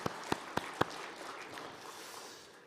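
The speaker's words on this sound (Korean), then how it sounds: "우리 주님께 영광과 감사의 박수 올려드립니다." Applause from a church congregation after a small choir ensemble's performance: a few sharp, distinct claps open it, then a soft, diffuse patter of clapping that fades away, with no voices.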